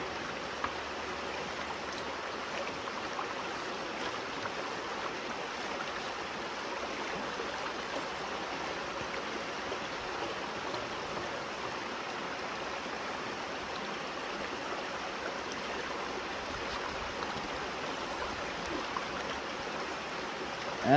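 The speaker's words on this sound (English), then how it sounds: "just wash the material with the water very gently" Water swishes and splashes steadily as a gold pan of river material is gently washed back and forth outdoors in the UK, a continuous close watery wash with no speech.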